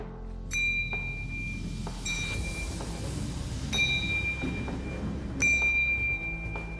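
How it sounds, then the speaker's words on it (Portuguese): Small bells ring in turn as a ball rolls down an inclined plane, each a bright, clear ding that hangs and rings out. They sound at roughly even intervals over a low rumbling background. "para que possamos ouvir os sinos tocando em intervalos iguais no tempo"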